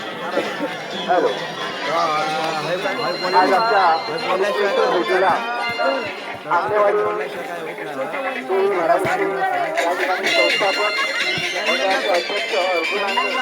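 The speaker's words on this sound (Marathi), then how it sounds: "गर्दी आता वाढली आहे." Dense crowd chatter and babble at the Kunkeshwar jatra fair in Konkan, a steady close hubbub of many overlapping voices with occasional louder shouts, continuous throughout.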